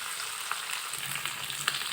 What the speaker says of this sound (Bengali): এবারে এর মধ্যে ডালটা দিয়ে দিচ্ছি।